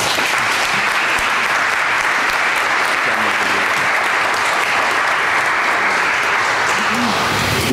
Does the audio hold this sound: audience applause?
yes